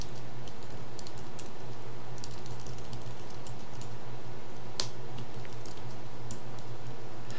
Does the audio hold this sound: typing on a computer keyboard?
yes